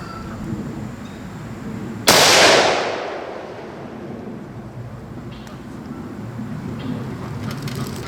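A single loud, sharp crack from a Savage Axis .308 rifle fired outdoors right after bore sighting at 50 yards, followed by a decaying rumble and open-air wind noise.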